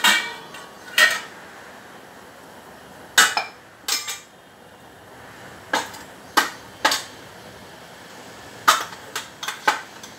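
Large metal pots and utensils being washed by hand, giving sharp clanks and clinks in scattered bursts, some grouped close together, over a quiet background with no talking.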